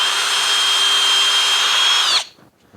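A Kobalt 24V driver/drill spins a bit in its chuck with a steady, loud, high whine lasting about two seconds, then winds down abruptly to near silence.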